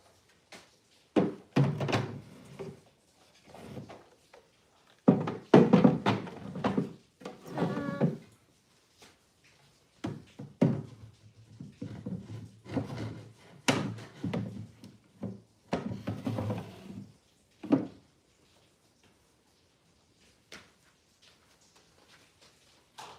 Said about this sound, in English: All right, back in the drawers.